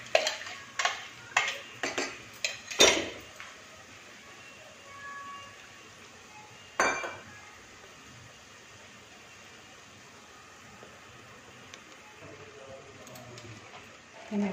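Ground tomato, cashew, chili and ginger paste being stirred in a pan for a cabbage dish, a flurry of sharp spoon-on-metal clinks and scrapes up close at the start, then scattered knocks over a quiet kitchen background.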